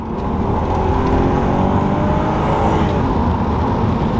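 A 2006 Audi A3 3.2 V6 Quattro S line accelerates with exhaust flaps open, a loud, steady, deep engine drone heard from inside the car, with rising tones and no talk.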